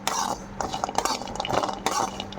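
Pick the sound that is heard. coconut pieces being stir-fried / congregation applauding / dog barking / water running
coconut pieces being stir-fried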